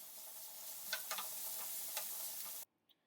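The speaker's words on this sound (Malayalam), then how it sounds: "ഇതെല്ലാതും നന്നായിട്ടൊന്ന് വഴറ്റിയെടുക്കണം. അപ്പോൾ ഇതിലാദ്യം ഞാൻ കുറച്ച് ഉപ്പ് ചേർത്ത് കൊടുക്കുന്നുണ്ട് കേട്ടോ" Onion, ginger and green chilli sauté with salt in a pan, giving a soft steady sizzle with a few light stirring clicks before cutting off abruptly into near silence.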